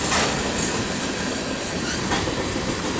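A Canadian National freight train rolls past at a crossing in Effingham, Illinois, with a steady, loud broadband rumble of cars and wheels continuing close by for the whole stretch, no voices heard.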